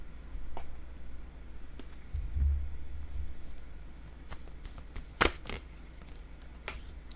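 Soft card shuffling from a card game, a quiet run of papery rustles with a few light clicks and taps and one sharper snap near the end, with no voices.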